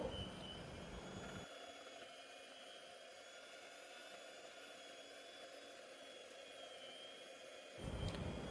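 Electric mixer beating a homemade butterscotch ice cream base, a steady whirring drone running continuously for several seconds with the motor cutting off near the end, no talking.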